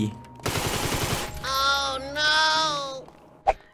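An MP40 submachine gun fires in a Free Fire–style GTA V mod game: a loud, rapid burst of automatic shots lasting under a second, then a short pause and a single sharp shot near the end. Talk is heard between the shots.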